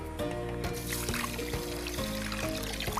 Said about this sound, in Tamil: இதில் தண்ணி ஊற்றி வச்சிடலாம்